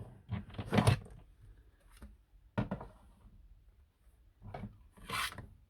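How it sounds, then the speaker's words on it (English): Greeting card stock sandwiched in a textured embossing folder between plates 1 and 3 is hand-cranked through an embossing machine, giving several short rasping, grinding bursts with pauses between them. "So you got plate 1, plate 3, embossing folder, and then plate 3 again, and wind it through."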